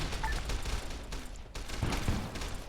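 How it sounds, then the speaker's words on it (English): Muffled gunfire rattles through a firefight in the video game Fallout New Vegas, continuous but fairly low in level, with sustained distant shots and a couple of sharper impacts. "Here goes that next firefight"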